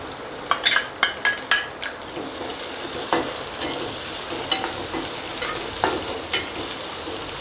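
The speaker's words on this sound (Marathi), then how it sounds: "त्यानंतर दोन चार कढीपत्त्याची पानं परतवून घ्यायचे त्यानंतर कांदा" Curry leaves and onion sautéing in a pan for a green potato vegetable dish, a steady close sizzle punctuated by regular clinks and scrapes of a stirring spoon.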